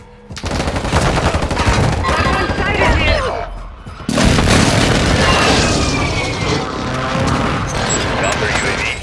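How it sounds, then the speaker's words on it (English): Heavy explosions and rapid gunfire from an airstrike in the video game Call of Duty: Modern Warfare II, a loud, dense barrage that pauses briefly near four seconds before resuming just as intensely. "Hostile airstrike incoming."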